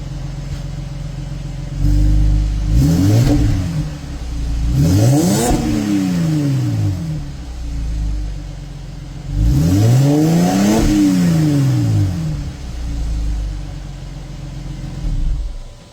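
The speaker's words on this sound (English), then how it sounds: "I'll set you up for some exhaust revs here." A 2012 car with its stock OEM exhaust and catalytic converters deleted revs up three times, each rise and fall sweeping clearly over a steady idle, close by with no talking.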